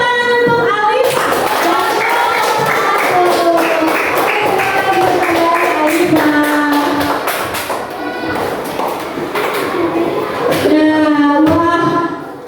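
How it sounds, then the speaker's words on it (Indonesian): A classroom claps for a student named Alifah, many hands tapping in dense, steady applause that runs loud throughout, with children's voices calling out over it near the end. "kita berikan tepuk tangan untuk Alifah"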